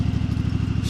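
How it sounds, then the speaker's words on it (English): A garden tractor's small engine runs close by with a steady, rapid, even chugging pulse. "Alright, tractor's running."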